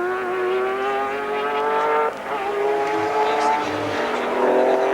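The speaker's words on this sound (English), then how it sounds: "Die stadiger motors is besig om nou in spel te kom en Gary Dunkerley wys vir hulle kom verby" Modified race cars in the 1992 Wesbank Modifieds series at Midvaal circuit, engines droning and whining at high revs as they pass and shift, loud and steady under a commentator's voice.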